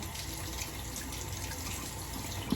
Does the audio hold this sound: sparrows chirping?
no